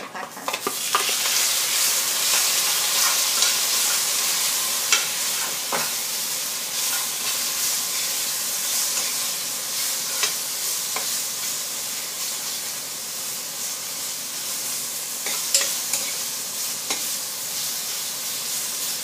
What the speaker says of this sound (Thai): เจียวกระเทียมให้หอมเลยแล้วจะใส่เนื้อลงไปผัด